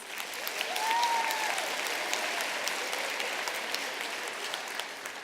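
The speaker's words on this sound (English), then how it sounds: "So let's give them a round of applause." An audience applauds award winners who earned medals, a steady, moderately distant patter of many hands that continues evenly throughout, with a faint voice briefly audible early on.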